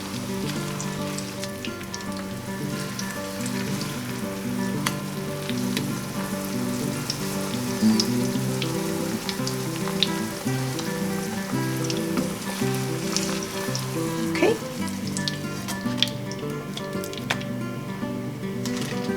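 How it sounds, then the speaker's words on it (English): Tortillas fry in hot oil, giving a steady, close crackling sizzle with scattered pops throughout and no talking. "We don't want to fry the tortilla all the way"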